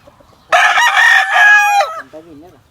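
A yellow-legged lemon hatch gamecock, banded by WTC, gives one loud, close crow lasting over a second, trailing into softer clucking sounds.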